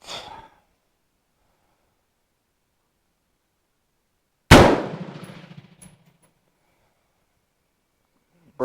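A single sharp Colt M4 rifle shot cracks loudly midway, followed by a short decaying echo, with brief handling noises at the start and end and otherwise silence.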